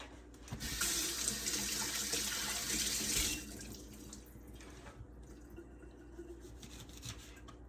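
A kitchen tap runs over lemons being rinsed for pineapple lemonade. The water gushes steadily for a few seconds, then drops to a softer trickle and occasional drips.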